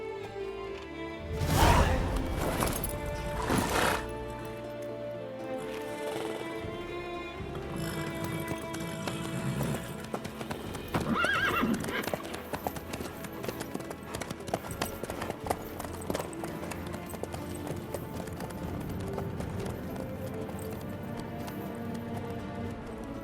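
Horse hooves clip-clop at a gallop in The Witcher 3, a steady rhythmic beat running throughout with a loud neigh near the start and game dialogue and music layered over it.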